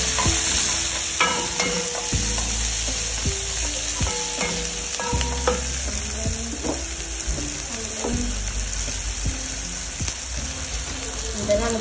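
Onion frying with salt and sugar in a pan, continuous loud sizzle with repeated stirring scrapes and clinks, close-up and steady throughout.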